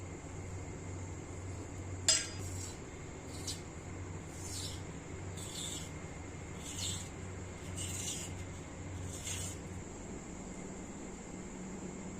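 Potato, onions, tomato and green chillies being cut with a knife, faint rhythmic chops landing roughly once a second over a low background hum, with one sharper knock near the start.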